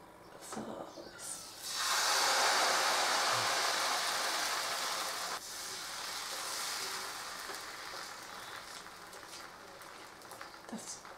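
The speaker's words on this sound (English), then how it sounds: "So what I'll be doing is putting in my batter with my ladle." Jian bing crepe batter ladled into a hot pan, a broad steady sizzle that swells suddenly and holds loud for several seconds before settling into a softer continuous hiss, with a few small clicks around it.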